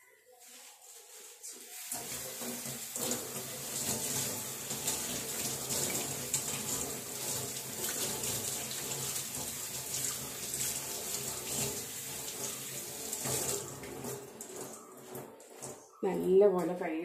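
A household tap runs in a steady, fairly loud stream for most of the clip while something is washed at a sink during home chores. The water cuts off near the end, followed by a short closer sound.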